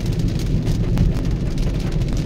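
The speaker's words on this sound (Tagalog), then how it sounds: "Lakas ng ulan." Heavy rain pours steadily beside a park on a city street where motorcyclists are stranded, a dense, unbroken roar of downpour with no voices.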